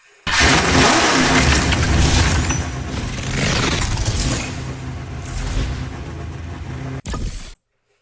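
A Peugeot car in a video game revs loudly, the engine roar surging near and strong before easing to a steadier drone, then cutting off abruptly after a short final burst.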